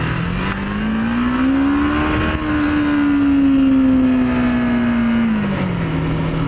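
A Kawasaki Ninja 500R motorcycle pulls hard, its engine note climbing steadily in pitch, dipping briefly at a gear change, then rising again before easing off, heard close and strong throughout.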